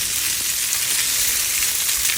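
Sesame seeds and cut dudhi muthiya fry in a pan with oil, giving a close, constant bright sizzle and crackle with faint stirring and no voices.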